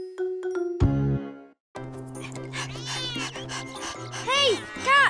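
A cartoon cat meows in an animated children's show, a drawn-out plaintive call rising and falling, repeated near the end, with bright musical notes and a character's voice around it.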